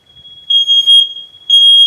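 An interconnected household smoke detector sounds during reset, giving loud, piercing high-pitched electronic beeps in a pulsing pattern after a quiet start, close to the microphone.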